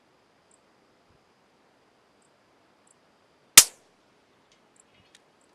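.22LR rifle fired from the prone position with open sights at a 150-yard target, a single sharp loud crack amid near silence.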